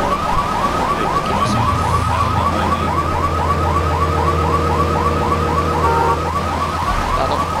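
A car alarm in the video game GTA III wails in a fast, steady, repeating whoop. It is loud and continuous over a low engine rumble, with no talking.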